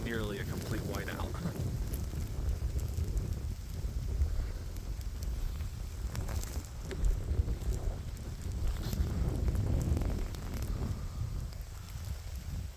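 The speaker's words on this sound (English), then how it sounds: "This had some crazy gusts, probably 40, 45 miles an hour." Strong gusting wind during a lake-effect blizzard whiteout, a loud continuous roar buffeting the microphone and surging in waves, with a voice talking briefly at the start.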